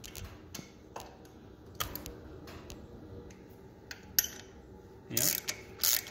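While a Hawk is torn down, bolts are loosened with a hand tool, giving sparse ratcheting clicks and metallic ticks at close range. A couple of louder, rougher bursts come near the end, and there is no speech.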